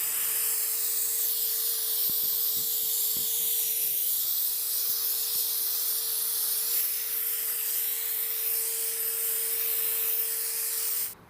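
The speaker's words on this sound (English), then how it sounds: "let me get a little air on this and we'll tack right it off" Compressed air blowing steadily over a car bumper being prepped for sealer and paint, a loud continuous hiss close by with a steady tone and a few light knocks, lasting the whole stretch without talk.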